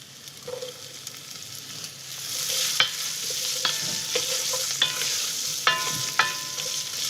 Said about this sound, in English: So let's put the carrots and the celery.